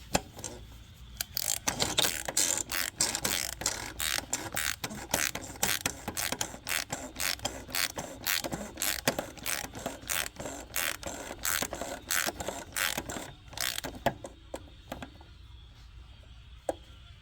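A ratchet with a deep socket tightening the oil drain plug on a 2012 Volvo XC60: a long run of rapid, close clicking pawl strokes that thins to a few slower clicks near the end, alone with no speech.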